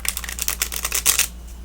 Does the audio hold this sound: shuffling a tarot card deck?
yes